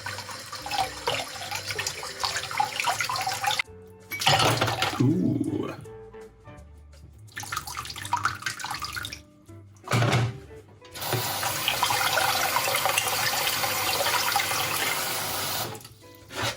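Cold water gushing from a tap onto a glass bottle being cut, a loud hissing splash in long bursts with brief gaps, close by, with a short exclamation from a voice in between.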